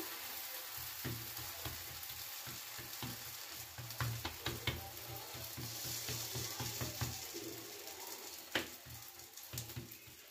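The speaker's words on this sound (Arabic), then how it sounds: "كنقلب المسمنه ديالي كيف ما كتشوفوا" Moroccan msemen flatbread sizzles steadily in a hot pan, with a constant close frying hiss broken by small scrapes and taps as the layered dough is flipped.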